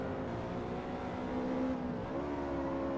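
Race car engine in Forza Motorsport holding a steady droning note, then the pitch dips and resettles as the gearbox drops a gear mid-race, loud and continuous with no talk.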